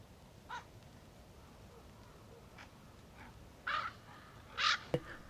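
Greater spotted eagles call from a distance at a nesting area, a few faint, short harsh cries spaced apart over a quiet outdoor background, the last two slightly louder.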